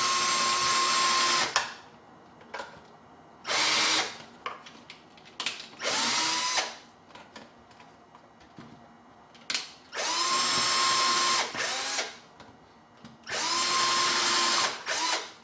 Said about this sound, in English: let's just drill a few holes where there are none